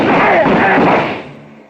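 A heavy gunfire effect from an old-time detective radio drama booms in one loud, close burst and then rumbles away over about a second and a half.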